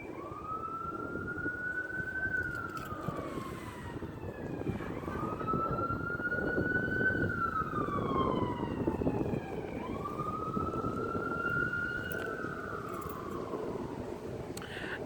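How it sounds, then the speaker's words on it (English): An emergency vehicle siren wails past a park, its rising and falling tone sweeping in three long cycles, fairly loud and steady over a low rumble of traffic, with no talking. "Let's let this emergency vehicle go by."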